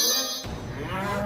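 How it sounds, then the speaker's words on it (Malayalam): Cartoon bull giving a single loud, drawn-out moo that fills the whole moment, close and sustained with no talk over it. "അയ്യോ ഓടിക്കോ, കാള വന്നേക്കുന്നു"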